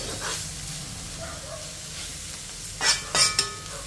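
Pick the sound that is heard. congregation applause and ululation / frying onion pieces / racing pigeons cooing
frying onion pieces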